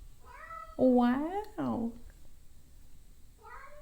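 A cat meows in a few drawn-out, rising and falling calls close by, with a brief spoken exclamation among them and a further short meow at the end.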